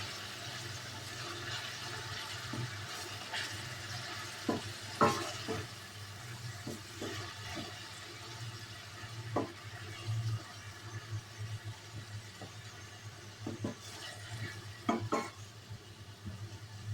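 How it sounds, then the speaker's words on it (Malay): Ginger garlic paste stirred in a pan for a plain biryani, a quiet steady sizzle with scattered scrapes and clicks from the spoon against the pan. "Halia bawang putih dan kita kacau bagi sebati."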